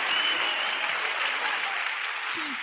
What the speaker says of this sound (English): give God a louder round of applause